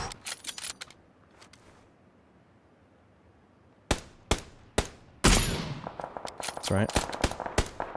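Sharp gunshots in PUBG crack out in short bursts at the start, then single loud shots spaced apart, followed by a dense rapid volley; someone talks briefly.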